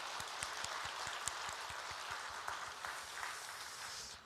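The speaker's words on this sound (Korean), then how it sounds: "우리가 서로 우리 하나님 앞에 영광의 박수 올려드리겠습니다" A church congregation at a Wednesday worship service claps together, a quiet but dense patter of many hands in the room, with a few sharper claps standing out and no talk over it.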